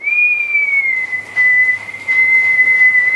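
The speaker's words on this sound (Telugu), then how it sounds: "విజిల్ పెడతావు." A person whistles one long, steady high tone that wavers slightly in pitch, loud and close with no other sounds.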